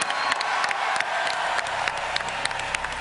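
Audience at BlizzCon 2010 applauds the World of Warcraft live raid team, a steady wash of many hands clapping at moderate volume with scattered sharper claps, no voices over it.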